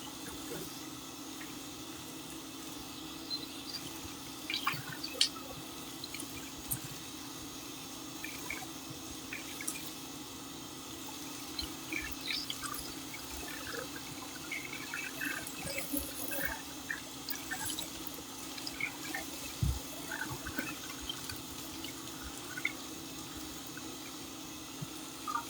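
Water runs steadily from a tap while something is rinsed out at home, a low continuous wash with a few faint drips and clinks on top, fairly quiet throughout.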